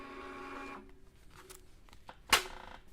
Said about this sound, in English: I'm going to use my Zebra label printer to print off a label here